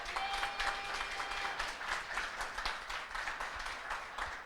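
A church congregation claps during a Spanish-language service, a continuous wash of many hands with rhythmic pulses, heard faintly and at a distance.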